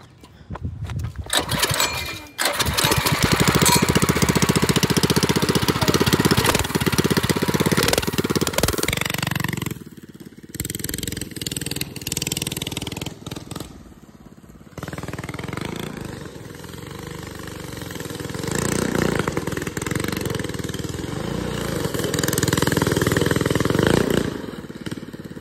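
Pit bike engine running loud and close, a steady rough motor drone with clattering that drops briefly mid-way then rises again.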